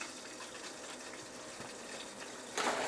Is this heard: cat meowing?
no